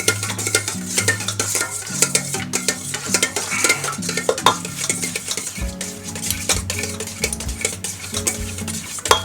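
Egg yolk is lightly beaten in a bowl for a Christmas bûche de Noël, the utensil clinking and scraping in quick, irregular strokes, close by, over steady background music.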